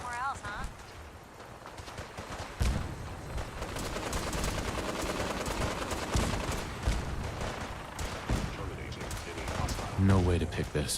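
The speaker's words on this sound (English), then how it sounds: "We go in shooting." Dense gunfire in Fallout 4, sustained rapid shots and bursts across the whole stretch, loud and close, with game voices talking over parts of it.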